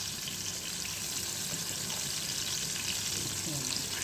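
Butter sizzling and frying in a pan for garlic shrimp, a steady broad crackle with some stirring, close and continuous throughout, with no voices over it.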